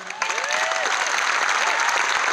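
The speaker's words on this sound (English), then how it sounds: "we got to get a round of applause for them too" A crowd claps steadily in applause for a couple of seconds, a faint whistle or voice rising briefly at the start.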